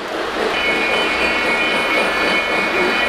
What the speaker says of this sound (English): It's pulled by a Lionel Lion Chief Plus Hudson steam locomotive with Milwaukee Road badging.